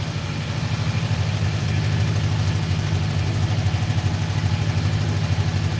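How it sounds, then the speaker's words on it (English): A 5.6 L Nissan NV 3500 V8 idling with a misfire from a failing ignition coil, a steady low exhaust rumble with an uneven, stumbling pulse, close and continuous with no speech. "You can hear a little bit of that misfire in the exhaust."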